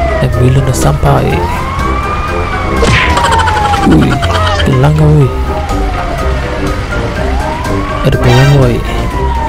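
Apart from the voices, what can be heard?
ambulance siren in a video game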